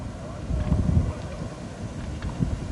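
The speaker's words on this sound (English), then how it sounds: "Wind basically blowing across the court." Wind gusting across an outdoor tennis court during a women's match in San Diego, a low rumbling buffet in the microphone with irregular surges, steady throughout.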